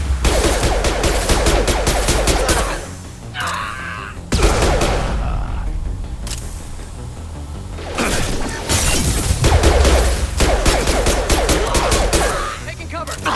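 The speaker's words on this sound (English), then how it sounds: "Heavy fire!" Heavy rapid gunfire in the video game Mass Effect 2, with loud dense bursts of automatic fire broken by short lulls, along with impacts, crashes and grunts.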